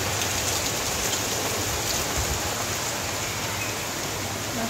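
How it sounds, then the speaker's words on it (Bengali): Heavy monsoon rain pours down steadily, a dense, unbroken hiss of drops drumming on surfaces nearby, with no talking. "রান্না করতে করতে হঠাৎ করে ঝুম বৃষ্টি শুরু হয়েছে"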